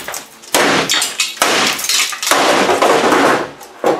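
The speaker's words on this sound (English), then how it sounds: "the one tool I know how to use fantastically, and that's a hammer" A hammer strikes the windows of a Toyota Solara project car in a series of loud, sharp crashing blows, each impact followed by a shattering burst and scattering glass, repeated about five times with brief gaps.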